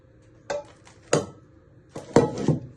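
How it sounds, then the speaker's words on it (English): A spatula stirs a meatball and vegetable casserole mixture topped with mashed potato, giving a few separate soft scraping clinks against the dish, with short gaps of quiet between them. "Just give it a little stir"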